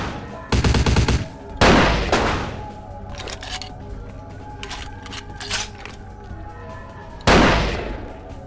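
Gunfire from a long-range gun in a video game: a few loud, sharp shots spaced apart, with quieter rapid pops and clicks between them.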